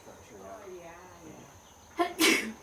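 A single sharp sneeze bursts out close and loud at the end, preceded by a quick catching breath, after a stretch of quiet low talk.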